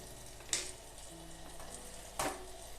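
Tomatoes sautéing in a pan for tomato rice, a faint soft sizzle broken by two quick stirring scrapes of a spoon against the pan.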